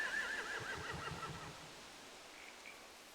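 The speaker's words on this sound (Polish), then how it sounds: "They have horses." A horse whinnies in The Walking Dead video game, a short rising-and-falling neigh near the start, followed by quiet ambience and a faint second call.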